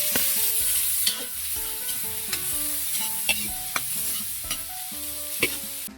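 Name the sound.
sautéing garlic, onion and tomato in cooking oil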